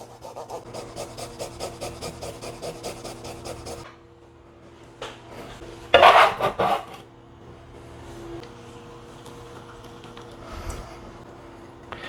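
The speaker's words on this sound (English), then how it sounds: "you're going to grate up 3 cloves of garlic" Garlic cloves rubbed over a grater for about four seconds in a quick, even rasping rhythm, close and alone, then a quieter stretch with a burst of louder scraping and handling noises.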